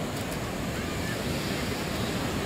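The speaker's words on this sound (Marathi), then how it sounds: "समुद्र चांगलाच खवळलेला आहे" Rough sea surf on the coast gives a continuous, loud roar of crashing waves mixed with wind noise on the microphone, unbroken for the whole stretch.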